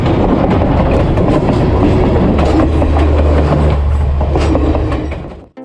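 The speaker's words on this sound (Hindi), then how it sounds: "इस वक्त सामने से आ रही है रावी एक्सप्रेस ZCU-26412 की लीड में" Pakistan Railways Ravi Express led by locomotive ZCU-26412 rolls past close by: a loud, continuous rumble with steady clickety-clack of wheels over rail joints and metallic rattling, fading slightly at the end.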